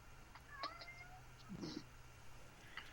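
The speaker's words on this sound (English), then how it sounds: "boy, that cat's loud." A house cat gives a couple of short, faint meows, then a rougher, throatier yowl in the middle, all distant and quiet over a steady low background hum.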